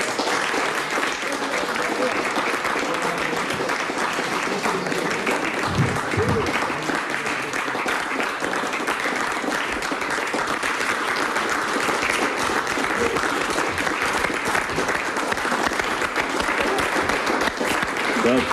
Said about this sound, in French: c'est ce monsieur qu'il faut applaudir.